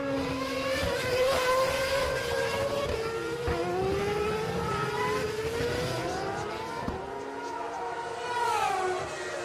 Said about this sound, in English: So the cars coming across the start-finish line for a curious start to this Japanese Grand Prix.